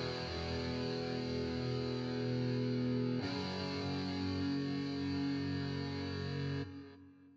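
Sustained distorted electric guitar chord, a sample played through free plugins in FL Studio, rings with a sudden tonal change midway as effects switch, then cuts off and fades out.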